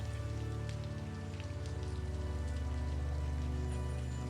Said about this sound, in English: Return to the rain's steady pattern.